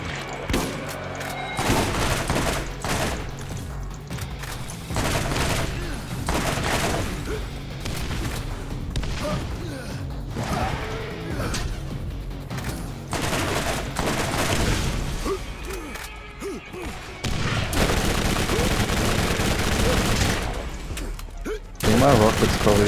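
Sustained video game gunfire with rocket blasts in Borderlands, dense rapid shots and booms running nearly continuously, loud and busy, with voices talking underneath throughout.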